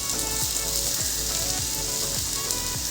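Alu vadi, colocasia leaf rolls, fry in hot oil in a pan with a steady, bright sizzle, broken by a few soft scraping thumps as the pieces are turned with a small spoon or knife.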